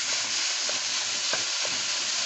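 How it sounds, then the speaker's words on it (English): Ground beef sizzles and crackles steadily in a pan on a stove, with faint scraping taps as it is stirred and broken up. "That's sizzling right quick."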